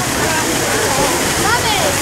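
Natural hot springs at Taupo, New Zealand, give a loud, continuous rush of flowing water where people are bathing, with faint voices mixed into the steady wash.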